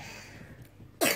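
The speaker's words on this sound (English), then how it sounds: "Oh, what a bad cough you've got." A single sharp cough bursts out near the end after a quiet, faintly noisy room, loud and close.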